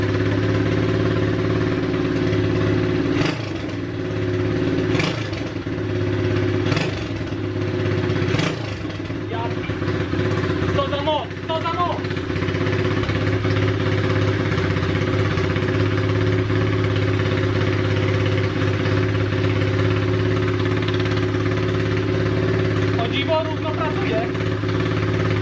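A Loncin 110/125 motorcycle engine, freshly assembled for a turbo build, idles steadily on its first start with a constant droning hum and a few sharp revs or knocks early on, while voices talk nearby.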